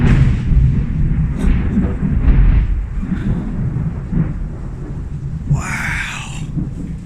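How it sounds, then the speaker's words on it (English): Thunder rumbles near a backyard chicken coop as a deep, loud low roll that builds and fades over several seconds, followed by a brief high chirping burst. "are you kidding me with this thunder? It's so distracting."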